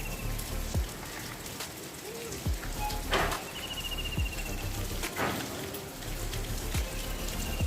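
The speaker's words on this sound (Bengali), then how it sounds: "আর যে বৃষ্টি পড়ছে।" Rain falls steadily on a dark, heavily overcast day, a continuous patter with scattered louder drops and a few faint bird or insect calls in the background, no voices.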